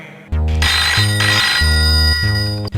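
A telephone rings loud and close with a bright, repeating electronic melody in steady bursts and no voices.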